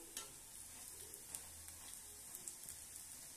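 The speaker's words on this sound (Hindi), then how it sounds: "जब फूल जाती है तो दोस्तों इसको हमें हाई फ्लेम पे थोड़ा सा फ्राई कर लेना है जिससे और भी अच्छे से क्रिस्पी हो जाएंगे" Aloo tikki frying on high flame, a faint steady sizzle with occasional soft pops and crackles.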